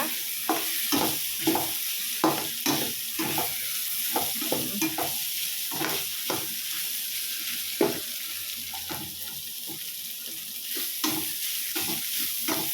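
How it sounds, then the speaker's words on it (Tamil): Carrot and beans poriyal is stir-fried in a pan, with a constant hiss of frying under repeated close scraping and stirring strokes that keep an uneven, busy rhythm. "கொஞ்ச நேரம் நல்லா ஃப்ரை பண்ணிவிட்டு இறக்கிடலாம்."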